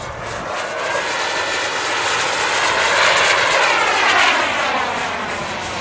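A loud, steady jet whine from a model jet aircraft roars overhead at a jet demo, swelling as it passes close and then easing slightly, with no voices.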